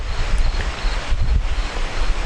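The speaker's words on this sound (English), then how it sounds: "I'm right near the ocean. I'm in a bay." Wind buffets the microphone over the wash of ocean waves in a Rhode Island bay near Dutch Island, a steady broadband roar with gusts rising and falling throughout.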